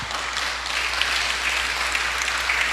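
Steady, dense applause from a church congregation fills the room, continuous and moderately loud throughout with no talking over it.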